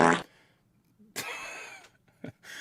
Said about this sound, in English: That fucking fart noise is gonna kill me.